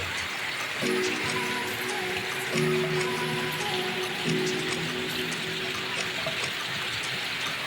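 Steady rain patters down continuously on a cotton farm, with a low tonal hum rising and falling in the background.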